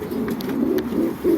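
Egyptian homing pigeons coo close by in soft, low, rolling phrases, several overlapping coos in quick succession.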